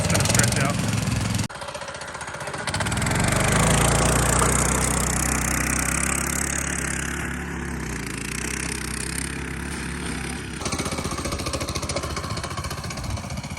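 Small custom four-seat Yerf Dog go-kart motor running outdoors, a loud steady engine drone with a slackening drive belt, rising and falling slightly, with people talking over it.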